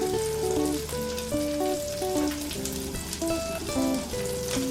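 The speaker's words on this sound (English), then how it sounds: "Into the wash, straight into the pan, and a little bit of my dill on top." Fish chunks fry in a pan topped with dill, a steady close sizzle over a music bed, with no voices.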